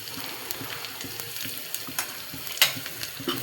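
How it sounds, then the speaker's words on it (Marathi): Cumin seeds and red chili sizzle in hot oil for a tempering while being stirred, a steady close frying crackle with scattered spoon clicks and scrapes. "त्यानंतर थोडं जिरं आणि थोडीशी लाल मिरची छान हलवून घ्यायची आहे."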